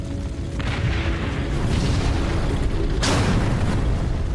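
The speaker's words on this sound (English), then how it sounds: "They tried to fire several shots, but listen, the ambush was lethal." Tank gunfire and explosions in a battle ambush from the October War: continuous heavy rumbling booms and bursts of battle noise, with a sharp loud blast near the end.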